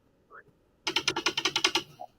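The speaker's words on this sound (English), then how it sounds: "It's actually me playing with the clip on the desk" A clip fiddled with on a desk gives a quick run of about ten sharp clicks in a steady rhythm, like typewriter keys, loud and close with no talk over it.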